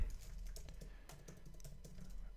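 Fast, irregular keystrokes on a computer keyboard, heard close and alone with no voices over them, clattering steadily across the whole stretch.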